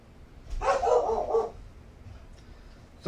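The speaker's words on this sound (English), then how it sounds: "Sorry about the dog barking." A dog barks in a short burst of a few loud, close yips and barks, then quiet, with another bark starting right at the end, in a home during a severe weather update.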